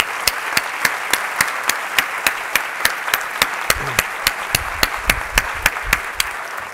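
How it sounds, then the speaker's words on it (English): A school audience applauds members of a nutrition group, a crowd clapping under one loud nearby pair of hands beating a steady, regular rhythm, with a low murmur of voices partway through. "let's all give them a round of applause for their many, many contributions to this school"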